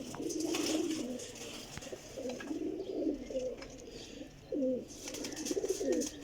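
Pigeons coo in repeated low, throaty phrases nearby, several rolling coos over a background of faint ambient noise and scattered chirps.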